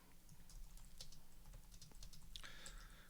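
Rapid keystrokes on a computer keyboard, an uneven run of close, quiet clicks while text is typed, with no talking.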